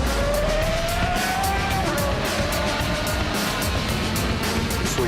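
A race car at a driving academy accelerates down a straight, its engine a steady loud roar with a rising whine that steps down as it shifts, under constant wind and road noise.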